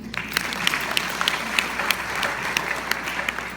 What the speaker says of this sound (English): You should applaud for us too.